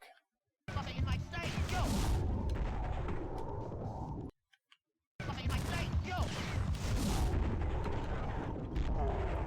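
Dense, loud gunfire and booming bursts from the Dead to Rights II action game fill two long stretches, split by a brief near-silent gap.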